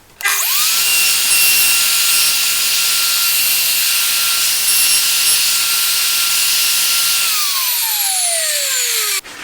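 A WoodRat router cuts a dovetail-shaped rebate in wood with a loud, continuous high whine and hiss, running steadily for several seconds before the motor spins down at the end.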